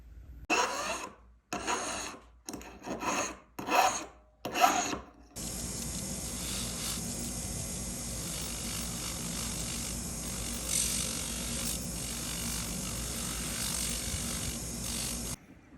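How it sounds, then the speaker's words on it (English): Metal ring shank being filed and sanded to clean it up, first in several short rasping strokes with gaps, then a long continuous steady scrubbing, close and even in level. "we're going to be doing some filing and sanding to clean up the ring shank"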